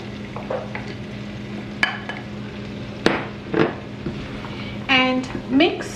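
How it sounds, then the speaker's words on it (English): Carrots, cauliflower and green beans being stirred with masala in a pan: a sizzling bed under several sharp spoon scrapes and knocks against the metal, close by, with brief bits of a voice between strokes. "And mix all the vegetables really well with the masala."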